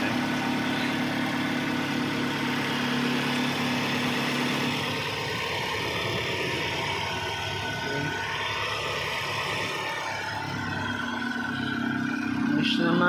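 A Toyota Vios engine idles in a steady, close hum with low vibration, rising slightly near the end; no voices are heard.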